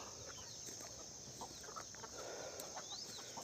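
Free-range country chickens cluck softly and intermittently at a distance on a farm, against a faint, steady outdoor background.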